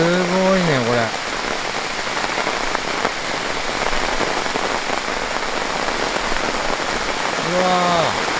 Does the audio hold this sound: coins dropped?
no